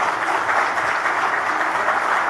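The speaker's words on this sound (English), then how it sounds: "Let's have a proper round of applause for Himanta Biswa Sarma" An audience at a national conclave gives a round of applause for the Assam chief minister, with dense, steady clapping held throughout.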